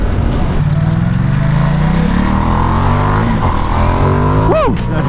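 A Ducati XDiavel motorcycle accelerates hard, its loud engine note climbing steadily through the gear with a rising pitch, recorded close from the rider, with a brief shift near the end and a voice faintly mixed in.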